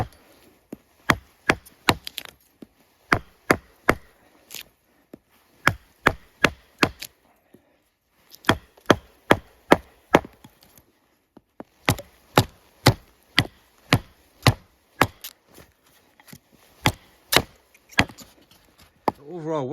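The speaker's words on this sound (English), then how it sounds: "let's see how it does at baton chopping" A Cold Steel SRK Compact knife is batoned through wood, producing a long series of sharp, loud wooden knocks in quick bursts of several strikes separated by short pauses, with no talking.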